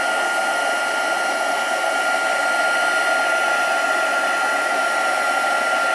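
Electric heat tool melting embossing powder, a loud, constant blowing whir with a fan drone, unbroken and close throughout.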